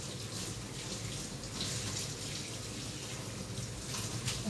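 Salad ingredients are rinsed under a running kitchen tap, giving a steady, close rush of water that continues without pause and with no voices.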